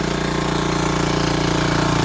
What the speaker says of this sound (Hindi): हमने डीजल का इंजन चला दिया, चलाया भाई